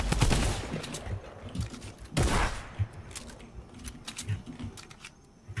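Rapid bursts of gunfire from a shooter video game, the John Wick skin on, with a dense volley at the start, another loud burst near the middle and scattered shots after, loud and close.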